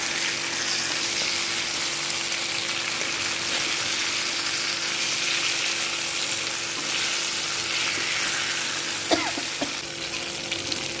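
Fish frying in a wok gives a steady close sizzle throughout, with occasional faint stirring scrapes and a couple of brief knocks near the end.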